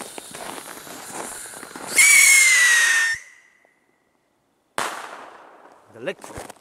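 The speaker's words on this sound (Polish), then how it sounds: "z tym kodem 5 to jest rakietka z hukiem" A Komet P9801 Shark firework rocket fired from snow whistles shrilly for about a second, followed by a sharp bang, then silence and a faint burst with distant chatter.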